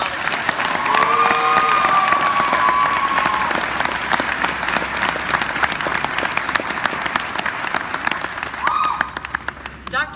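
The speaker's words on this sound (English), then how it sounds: "I'd really like everyone to give a round of applause to Dr." An audience at a university ceremony for retiring department chairs gives Dr. Jensen a long, warm round of clapping that holds steady for several seconds before tapering off, with a brief voice and cheering rising over the applause.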